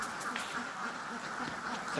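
Ducks quacking, heard as steady nasal calls from a flock, blended into a dense, noisy background without clear gaps.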